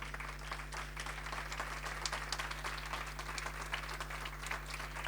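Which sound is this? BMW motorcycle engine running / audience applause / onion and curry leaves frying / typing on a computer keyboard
audience applause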